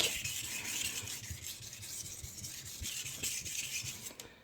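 A kitchen knife blade is drawn repeatedly across a sharpening stone in steady rasping strokes, close and fairly quiet, each pass a gritty scrape with faint knocks between them.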